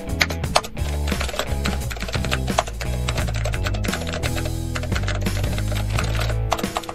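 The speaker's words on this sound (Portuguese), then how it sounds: "E agora eu vou estar digitando exatamente por esse código" Rapid typing of a code on a computer keyboard, a dense run of close clicking keystrokes with brief pauses, loud and steady throughout with no talk.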